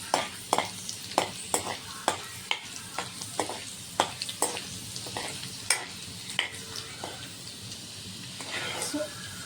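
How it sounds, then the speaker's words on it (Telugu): Paneer and garlic frying in a pan, with a soft sizzle under repeated sharp scrapes and clinks of a spoon stirring against the metal, all close and at moderate volume. "ఇప్పుడు మనం దీంట్లోకి ముందు కట్ చేసి పెట్టుకున్న పన్నీర్ యాడ్ చేసుకోవాలి"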